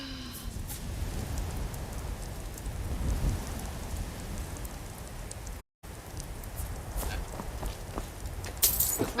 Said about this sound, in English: This rain will stop eventually. Always does.